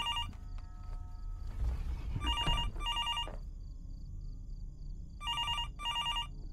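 An old-style phone rings in the horror game Fears To Fathom, repeated pairs of sharp electronic trills with pauses between, alongside a brief burst of rustling noise near the start.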